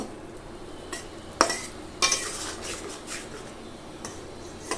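Fish seasoned with turmeric and salt is stirred in a pan, a soft sizzle running underneath while a utensil scrapes and clinks against the metal a few times, close up and with no talking.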